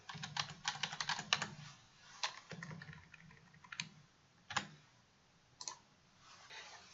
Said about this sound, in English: And they can type their answer.